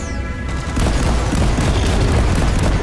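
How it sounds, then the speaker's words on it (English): Deployed turrets fire in Deep Rock Galactic, a dense, continuous rattle of rapid shots and booms that grows louder after the first second and stays steady without talk. "it's already getting shot by my turrets"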